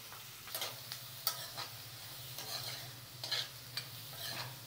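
Cumin, mustard seeds, green chilli and onion fry in a pan in a home kitchen, making a faint, steady sizzle broken by intermittent scraping stirs, quiet and close, with a low hum underneath.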